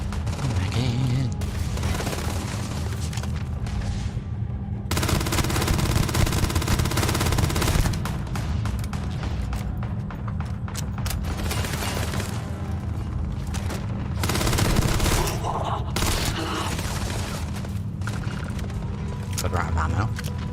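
Gunfire in the video game Starfield, bursts of rapid shots and booms rising and falling over a continuous rumble, with people talking throughout.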